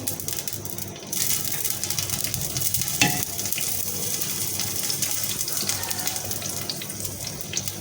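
Chopped onions fry in ghee in a pan, a continuous hissing sizzle at moderate level with a faint clink partway through, heard close with no talk.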